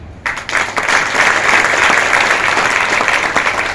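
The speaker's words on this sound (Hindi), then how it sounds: "आप एक बार उनके लिए ताली जरूर बजाएं" An audience claps together at a Renatus gathering in India, the applause bursting in suddenly after a brief quiet and then holding as a loud, dense, steady wash with no voices over it.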